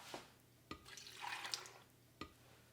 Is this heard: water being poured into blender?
yes